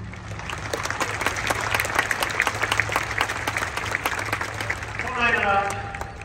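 Rhythmic clapping from a large crowd of Fagiano Okayama football supporters at their home stadium in Japan, steady and dense, with a brief cheer or chant rising near the end.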